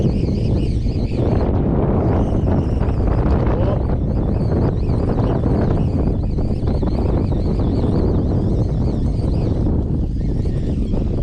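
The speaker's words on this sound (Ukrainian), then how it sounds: "Блін, долбаний вітер." Strong wind buffets the microphone in a constant roaring rush, gusting slightly throughout, during a storm while jig-spinning fishing on the Dnipro River.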